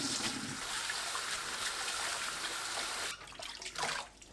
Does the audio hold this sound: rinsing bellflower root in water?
yes